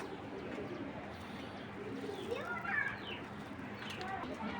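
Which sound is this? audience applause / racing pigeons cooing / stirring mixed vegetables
racing pigeons cooing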